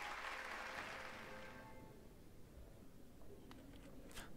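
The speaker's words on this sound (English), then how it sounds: "Hear how the crowd adores you." Crowd applause in the video game Hollow Knight, a dense clapping roar that fades away over a few seconds and leaves faint scattered sounds behind.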